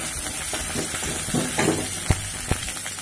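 Chopped garlic, ginger and green chili frying in a hot pan, a steady close sizzle with a few sharp stirring clicks and spatters near the end, no voices.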